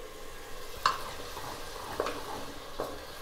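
Soft sizzling of onion, garlic and tomato masala frying in a pan with a few scraping stirs from a spoon, quiet and close, no talking.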